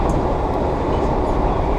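A vintage New York City subway holiday nostalgia train rumbles past close by, a loud steady roar of wheels and cars with no pause.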